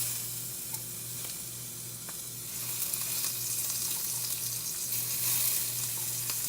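Food sizzles steadily in a hot pan, a continuous crackling hiss that grows slightly louder midway, heard up close with no talking.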